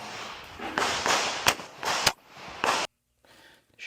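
Rapid pistol gunshots at an IPSC shooting competition crack in a quick irregular series over a noisy background, then the sound cuts off abruptly into near silence.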